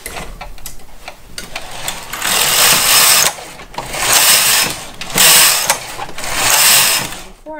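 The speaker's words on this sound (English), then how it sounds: "I'll put my weights back on and knit four more rows to complete my band." Domestic knitting machine with weights hung on the fabric, its carriage run back and forth across four rows of a buttonhole band; a loud whirring swish rises and falls with each pass, separated by short pauses and mechanical clicks.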